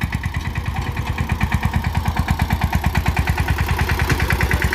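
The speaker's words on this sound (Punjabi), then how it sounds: "ਛੋਟਾ ਟਰੈਕਟਰ ਜੋ ਕਿ ਕਿਸਾਨ ਦਾ ਆਪਣਾ ਪਿਆਜ਼ ਲਿਆ ਰਿਹਾ ਖੇਤੋਂ" A small tractor engine idles with a steady, rapid low thumping, close by and running on its own with no voices.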